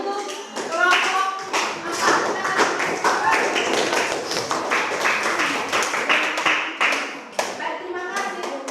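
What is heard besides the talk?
classroom clapping for group 4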